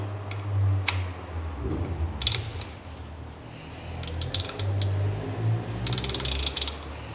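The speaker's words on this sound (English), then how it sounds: "I'm going to do up the bolts using my 3mm Allen key on my torque wrench" A 3mm Allen key on a torque wrench tightens the bolts of a Brompton rack, giving close, sparse ratcheting clicks and a few short metallic ticks, with a low hum beneath and no talk.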